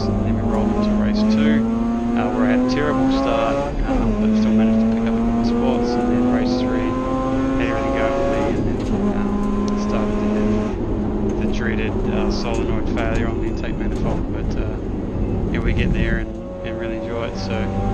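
A Mazda RX8 Cup race car circulates on track at Sydney Motorsport Park, its loud engine droning and rising and falling through gears in-car, with a voice talking over it.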